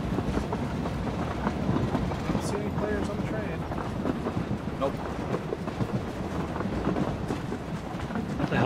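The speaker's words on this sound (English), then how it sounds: "Train coming in." A train rolls past in the battle-royale game PUBG, a dense, steady rumble and rattle that stays loud and continuous throughout without pause.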